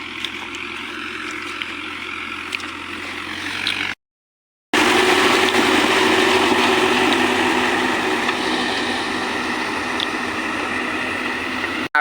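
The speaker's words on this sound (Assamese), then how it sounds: "এতিয়া ট্ৰেক্টৰখন ধুনীয়াকৈ হাল বাব।" A tractor engine ploughing a flooded paddy field gives a steady, loud mechanical drone. It is briefly cut by a short gap of silence and then resumes at a constant level.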